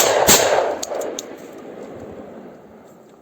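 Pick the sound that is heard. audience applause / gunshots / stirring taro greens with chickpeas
gunshots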